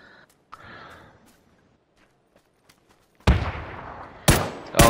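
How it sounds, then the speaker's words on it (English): Grenade explosions in PUBG, a quiet stretch of faint clicks and movement broken by a sharp, loud broadband blast, followed by two more bursts close together near the end. "Throwing a nade."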